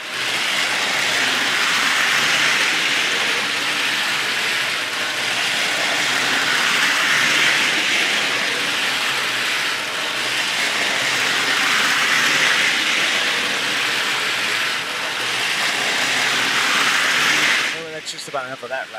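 A small Model Power Blue Eagle model train with a three-pole motor hums and whirs steadily for a long stretch, close by, ending with a few clicks and rattles.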